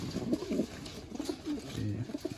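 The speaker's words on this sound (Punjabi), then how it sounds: "ਆ ਬੈਠਾ ਬਾਈ ਜਰਨੈਲ ਵਾਲੇ ਕਬੂਤਰਾਂ ਚੋਂ ਆ ਜਾਨਵਰ ਇਹ" Pet pigeons of an old breed at a loft, giving low repeated coos in short bursts, close and moderately soft against faint background noise.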